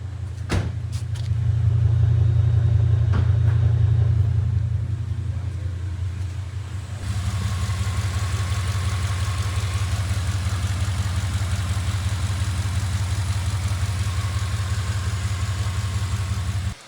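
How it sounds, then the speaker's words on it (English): A misfiring V8 in an Infiniti Q45 idles with a steady low rumble, loud early on and then a bit quieter and even for the rest, with no talk. "this car is misfiring, and I need 8 ignition coils, 8 spark plugs"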